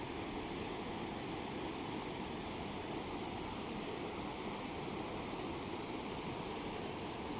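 Pahanthudawa waterfall rushes in a steady, dense roar of falling water, close and unbroken, with no voices.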